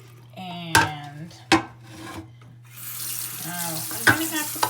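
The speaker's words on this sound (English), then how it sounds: "let the water run like this for 5 minutes" Water runs from a tap into a sink during washing of a pinhole camera negative print: a steady rushing flow with a few clunks and knocks of handling, no talk.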